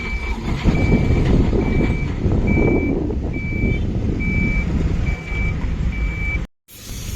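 A mini workshop truck approaches on a road, its reversing alarm beeping steadily about once a second over a loud diesel rumble, close and with no talk.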